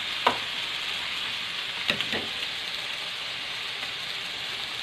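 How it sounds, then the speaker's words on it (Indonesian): Shrimp stir-fried with garlic in a pan for a simple tomato-sauce dish, a steady dense sizzle with a few faint scrapes of stirring, close, no voices. "Saya masukin udangnya. Saya aduk-aduk. Aduk ya. Tumis-tumis sampai matang."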